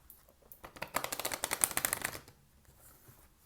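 Oracle cards from a Moonology deck being shuffled close up, a dense run of crisp riffling flutters building to a peak and then trailing off, with no talking.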